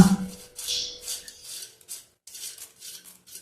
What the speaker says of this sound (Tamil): பொட்டுக்கடலை நம்ம கொட்ட கொட்ட போகிறோம்